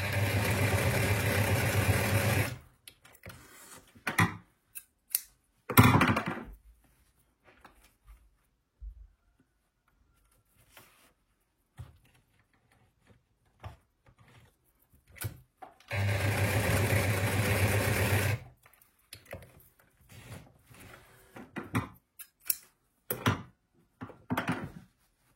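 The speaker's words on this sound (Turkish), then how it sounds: "Şimdi söylediğim gibi yan kenarları hemen dikiyoruz." Sewing machine stitching the side seams of a crochet bag's lining, running in two loud sustained bursts of a few seconds each, separated by quieter stretches of fabric handling, clicks and small taps.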